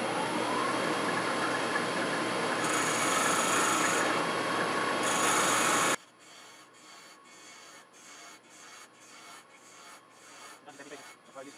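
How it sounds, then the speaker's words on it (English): Spindle gouge taking light cuts on cherry burl on a wood lathe while turning a lidded box, a loud continuous rough scraping hiss that stops abruptly midway, leaving a faint rhythmic tapping and hum. "Now I take off that final little bump at the end using my spindle gouge,"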